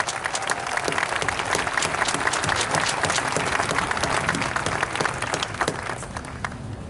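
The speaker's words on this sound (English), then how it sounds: "Let's give him one more round of applause." An outdoor audience at a statue dedication ceremony for Miles Davis in Alton, Illinois, breaks into sustained applause, crisp individual claps standing out over a thick, continuous roar that tapers slightly at the end.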